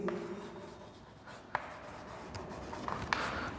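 A pen writing during a maths lesson on rational numbers: soft steady scratching with a few sharper taps, close and fairly quiet, no speech.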